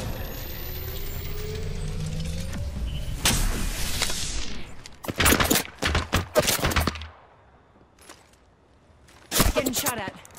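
Gunfire in the battle royale game Apex Legends, with a mechanical whir and clatter followed by several sharp, rapid bursts of automatic fire, a quiet gap, then another loud burst near the end, alongside some voice.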